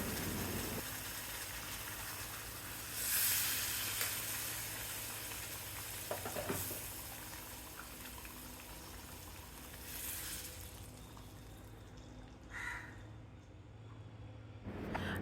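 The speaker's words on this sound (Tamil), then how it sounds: "நல்லா கொதிக்கிற தண்ணி 3 கப் அளவுக்கு நான் சேர்க்குறேன்." A steady, loud sizzling hiss with bubbling as about 3 cups of boiling water hits wheat semolina in a pan, with a few brief clinks and surges over the constant noise.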